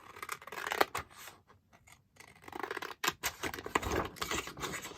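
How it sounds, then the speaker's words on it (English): Scissors cutting a straight line through paper taken from a 1950s ledger, crisp close snips in two bursts separated by a brief pause. "I'm going to cut straight along this blue line here"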